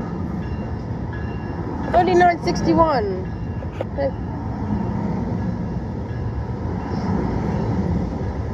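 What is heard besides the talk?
NJ Transit train departing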